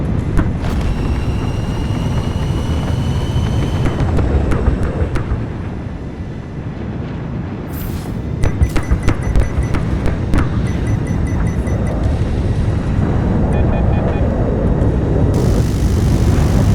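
An enemy helicopter passes overhead in the Delta Force video game, with loud, continuous rotor and engine roar alongside aircraft noise, punctuated by sharp electronic beeps and tones.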